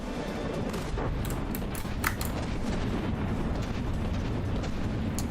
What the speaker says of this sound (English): Mortars are coming down too.